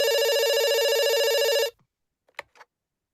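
Telephone bell ringing in a radio play, a continuous loud ring that stops abruptly, followed by a few faint clicks and handling sounds.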